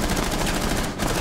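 Rapid automatic gunfire rattles in Rainbow Six Siege, a loud, close burst of evenly spaced shots running through the whole moment without speech.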